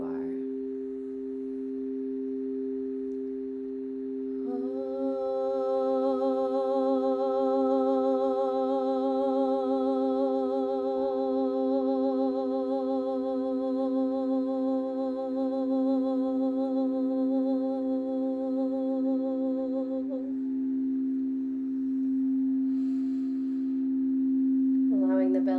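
Meditation tones for grounding: a steady low drone hums throughout, joined for about fifteen seconds by a richer, gently wavering sustained tone layered on top before it fades back to the drone.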